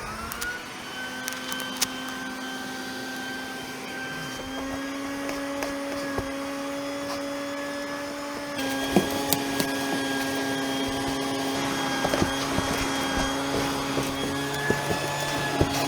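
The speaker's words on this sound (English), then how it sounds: "So let's go ahead and just vacuum it real quick." A vacuum cleaner works over the floor carpet of a Toyota GR86 during a race seat install. Its steady, loud motor whine runs throughout, with small clicks and knocks from the nozzle scraping the carpet.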